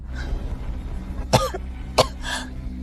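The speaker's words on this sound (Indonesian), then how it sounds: "Batuk!" Two sharp coughs about half a second apart, clear and close, over a low steady background hum.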